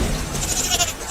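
A goat bleats during a village flood scene, a short, close, wavering bleat over a steady background noise, with no talk.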